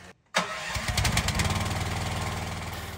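A skid steer engine turns over and catches after a brief silence, then settles into a loud, steady low-RPM idle with a rhythmic throbbing pulse, running alone without talk.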